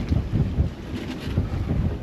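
Steady wind at sea on a sailboat between Tahiti and Hawaii buffets the microphone in low, rumbling gusts, with a constant roar and no voices.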